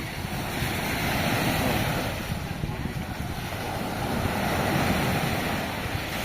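Strong ocean waves crash and surge continuously along the shore, thick and loud, with wind buffeting the microphone throughout.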